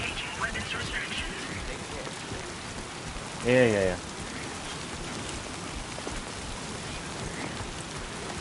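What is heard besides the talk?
rain in the video game Death Stranding II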